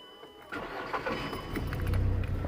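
A car with a manual transmission that won't go into gear starts up: a short cranking whir, then the engine catches and settles into a steady, close, rumbling idle.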